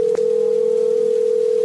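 A cell phone call rings through with a steady, continuous telephone tone, loud and alone, held unbroken for the whole stretch.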